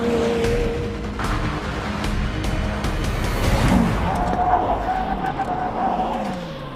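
A McLaren Senna and a Jaguar F-Type brake hard from 100 mph side by side, heard as loud roaring engine and road noise with tire sounds as the speed drops, no talking.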